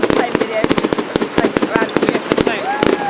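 Fireworks going off at a jubilee display in East Grinstead: a rapid, irregular string of sharp cracks and bangs, loud and close, while people talk over them.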